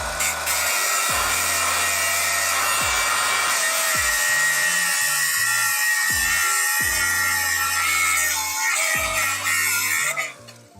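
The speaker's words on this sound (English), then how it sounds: "That is welds, and this is a angle grinder." Angle grinder cutting through welds on a rusty Ford in a garage, a loud continuous high whine with steady grinding noise throughout, with repeated low thuds and knocks underneath before it cuts off at the end.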